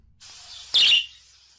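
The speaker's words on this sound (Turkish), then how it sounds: "Şimdi lanet kuşu çağıralım." A single short bird chirp rings out sharply, preceded and followed by a faint high hiss.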